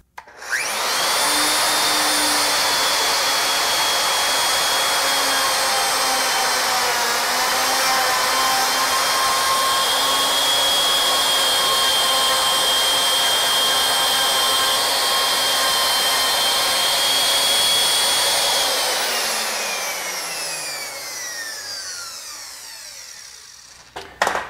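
A plunge router cuts wood for a hollow spiral candlestick with a loud, steady high-pitched whine, then spins down and fades at the end.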